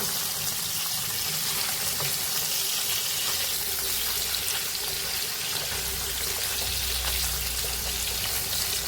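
Paneer pieces frying in white oil in a wok give a steady, even sizzle with a soft bubbling hiss that holds from start to finish, close by and fairly quiet, with no talking.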